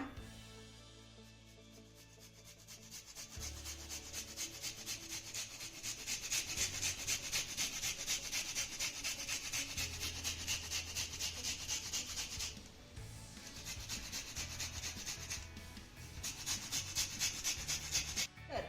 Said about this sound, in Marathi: आता भाजलेला फ्लॉवर यामध्ये आपल्याला किसून घालायचा आहे तर इथे आपला फ्लॉवर देखील थंड झालेला आहे आपण आता हा किसून घेऊया